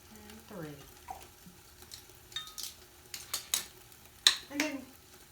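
Okra being mixed with soy sauce (liquid aminos) and salt in a pan, with soft scraping, stirring and scattered light utensil clinks. A voice speaks briefly near the start.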